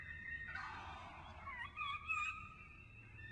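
A wild turkey gobbles in a park wetland, a faint, distant rattling call of a couple of seconds over quiet outdoor background hum.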